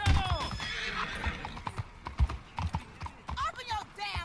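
A horse clip-clops and neighs in Red Dead Redemption 2 while riding through a city, hooves thudding in an uneven rhythm with several whinnies, under a man's ongoing speech.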